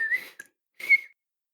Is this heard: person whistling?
yes